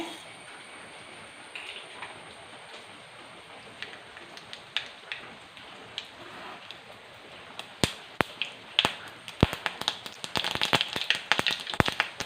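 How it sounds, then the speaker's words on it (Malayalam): Mustard seeds pop in hot coconut oil in a pan, with sparse sharp crackles early that grow denser and louder toward the end over a faint background hiss. "വെളിച്ചെണ്ണ ചൂടായി എന്നാൽ കടുകിടുവാണേ"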